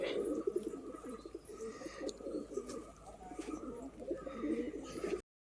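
Small pigeons kept at a home loft coo in repeated soft, throaty phrases nearby, with faint chirps and light background noise.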